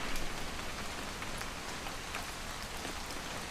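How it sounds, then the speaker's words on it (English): Steady rain falls in What Remains of Edith Finch, an even, soft hiss of drops with no pauses, heard alone and fairly faint throughout. "It's gonna rain the whole weekend, isn't it?"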